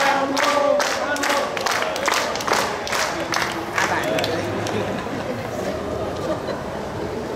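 Audience applause at a parish former youth leaders' year-end gathering and award ceremony, sharp claps strongest at the start then thinning into a softer ongoing patter, with crowd murmur and voices underneath.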